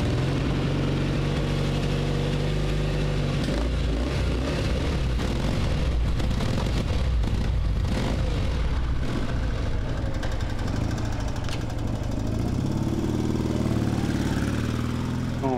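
An old motorcycle engine runs after a hard start, a loud, rough, continuous mechanical rumble with uneven throttle changes and rattling, close by and without speech.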